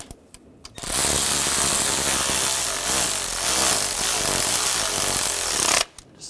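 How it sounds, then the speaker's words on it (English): Bracket bolts being tightened on the 3.5L V6 engine of a 2006-2009 Mercedes-Benz E350 during knock sensor replacement: a loud, steady whirring rattle runs continuously for about five seconds, close up, with no talking. "We're gonna put the bolts in for this bracket. Get those started. We'll tighten those down."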